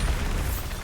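A Bombarda spell cast in Hogwarts Legacy goes off as one short, loud explosive burst, heavy in the low end and filling the whole moment with no voice over it.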